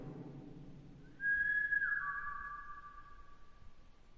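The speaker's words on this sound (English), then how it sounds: "If I whistle, could you whistle after me?" A person in underground tunnels whistles a single long, clear note that slides down in pitch and rings with echo, standing out alone against a faint background.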